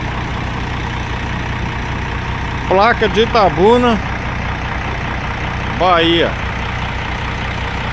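Mercedes G6 bus of Viação Serrense idling, a steady low engine rumble heard up close throughout while someone talks briefly over it twice.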